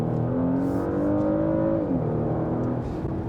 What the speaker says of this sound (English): you can really hear the throaty sound of the V6 come through